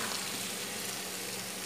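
Potato, peas and cauliflower sizzle in frying onion-tomato masala, a soft, steady close hiss with light stirring, no voices.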